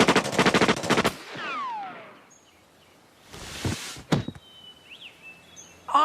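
Cartoon sharpshooters let loose a rapid burst of gunfire, followed by whizzing ricochets, a second volley and a couple of sharp single shots, loud and close with no talking.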